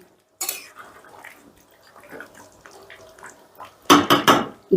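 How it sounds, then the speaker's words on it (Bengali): Hyderabadi chicken kosha stirred in a pan, with soft scraping and shuffling followed by a few loud metallic clanks of the utensil against the pan. "এবার সমস্তটা বেশ ভালো করে মিশিয়ে দিচ্ছি"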